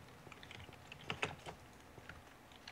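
Quiet clatter of keys on a computer keyboard during a Minecraft multiplayer session, a short flurry of close, soft clicks with a few louder presses in the middle.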